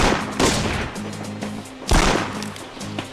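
Rifle gunshots in a Lithtech engine video game, two heavy booming shots about a second and a half apart over a low droning hum, loud and close.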